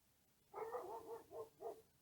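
A small dog barks four or five times in a quick uneven series, moderately close and clear over a quiet outdoor background.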